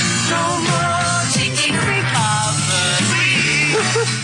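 Dense, continuous music with shifting vocal and instrumental lines, changing abruptly every second or so like short song fragments spliced together, loud throughout.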